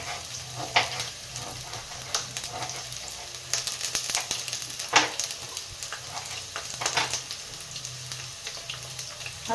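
Chillies, onions and garlic fry in a pan for sambar, a steady soft sizzle with intermittent clinks and stirring scrapes, fairly quiet and close, no talking.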